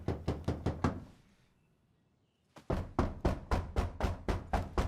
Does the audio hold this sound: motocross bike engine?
no